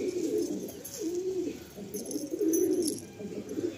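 A black Madrasi pigeon coos in low, rolling, repeated phrases close by, the throaty calls swelling and fading in steady succession with faint high twittering in the background.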